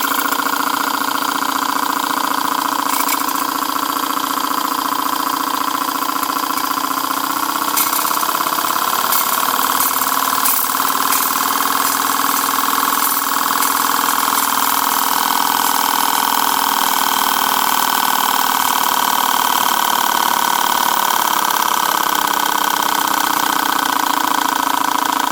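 A Boucher S62 model steam engine fed by a CF2 boiler at 40 psi runs steadily and close by, a continuous mechanical drone with a fast rhythmic chuff that picks up in speed, with no talking.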